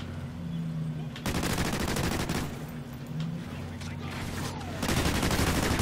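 Sustained automatic gunfire from the ARX rifle in the video game Call of Duty: Ghosts, long loud bursts separated by short pauses, with a hum of game background underneath.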